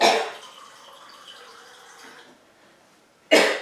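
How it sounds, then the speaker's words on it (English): A man coughs twice, loud and close: one sharp burst at the start, a quiet breathy pause in between, then a second abrupt cough at the end, with no talking. "I'm not really sure why I'm coughing right when I start the video."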